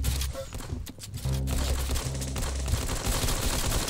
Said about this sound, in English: I don't want to use a stupid nail gun!